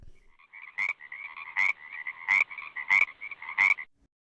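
A frog croaks five times in an even rhythm, each a short raspy burst over a sustained ringing trill, close and clear with no other sound.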